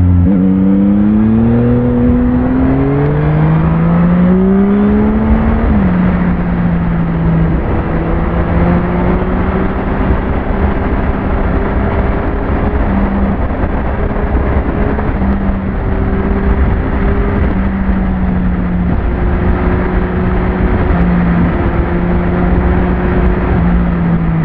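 A 2021 Yamaha MT-09 SP motorcycle engine drones loudly and steadily while riding, its pitch rising and falling through gear changes without pause.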